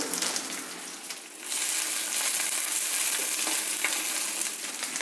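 Onion and dry chilli hitting hot oil in a pan, a quieter crackle that jumps to a loud, dense, steady sizzle partway through, close up with no voices.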